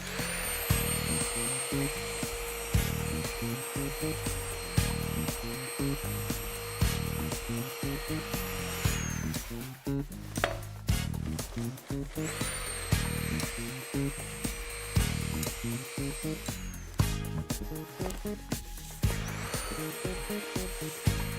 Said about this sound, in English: what I need to do is just condition the surface area with a nylon material